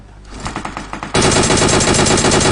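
Scattered shots in the video game PUBG give way to a sudden, sustained burst of loud automatic gunfire that rattles on densely to the end.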